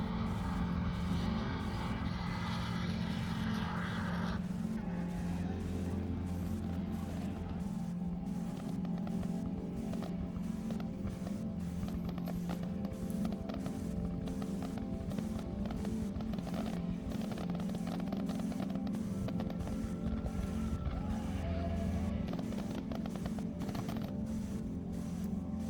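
A four-cylinder light aircraft engine droning in flight at night, a steady low rhythmic hum with mechanical creaks and rattles layered over it, continuous and close as if heard from inside the cabin.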